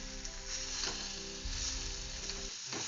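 Tamarind pickle is stirred in a pan, a close, soft sizzle with scraping strokes moving it back and forth, fairly quiet and steady with no voices.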